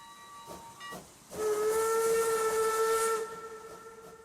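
A steam locomotive whistle in Transport Fever 2 sounds two short toots, then one long, loud sustained blast with hissing steam. It lasts about two seconds before fading.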